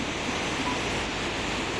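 Gauri Ganga and Kali rivers meeting at Jaulјibi, a continuous broad rushing-water roar, steady and fairly distant, with no voices.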